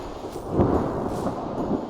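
Deep thunder rolls through a severe thunderstorm over the Nevada desert, a loud, continuous low rumble swelling midway with a hiss of rain beneath it.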